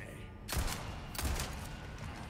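Two loud gunshots ring out about half a second apart in Resident Evil 4 Remake, each a sharp broadband crack with a low thump, followed by a faint steady game background.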